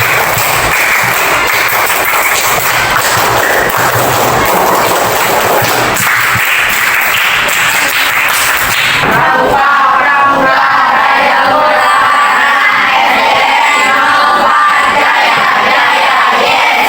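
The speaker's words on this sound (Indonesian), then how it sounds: "coba tepuk 3 kali tepuk pramuka" A class of students does a loud group scout clap and cheer, energetic crowd clapping and yelling that fades into softer, scattered sounds toward the end.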